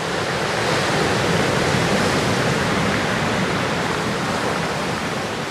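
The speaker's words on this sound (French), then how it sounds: "les vagues forcissent" A loud, continuous roar of ocean surf at sunset at Port Ouest, Réunion, fills the air, broad and steady without distinct breaks between waves.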